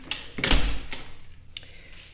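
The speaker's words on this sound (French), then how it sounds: "je vais bien fermer parce que j'ai pas fermé correctement la porte-fenêtre" A French window door on a small balcony is shut, giving a muffled thud followed by a latch click and a couple of lighter clicks. The sounds are close and moderately quiet over faint room noise.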